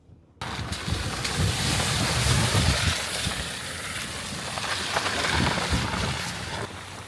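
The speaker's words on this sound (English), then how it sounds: "I am now green laning in my Porsche Cayenne, and it's pretty good" A Porsche Cayenne E-Hybrid green laning off-road in off-road mode, heard mostly as steady broadband rumble and wind buffeting against the microphone, with occasional bumps and knocks, no voices.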